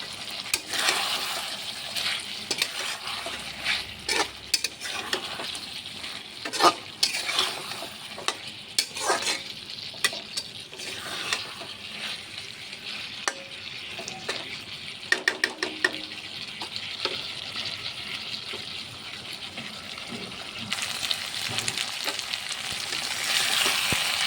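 Onions frying in a pan for chicken fry, a steady close sizzle broken by repeated clicks and scrapes of a spatula stirring against the pan over a long stretch.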